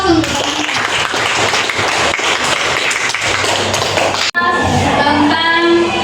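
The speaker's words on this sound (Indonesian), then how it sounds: "kasih dulu aplaus untuk" Applause from a classroom audience, a steady dense wash of clapping filling the whole stretch, with a brief sharp break near the end before the clapping resumes.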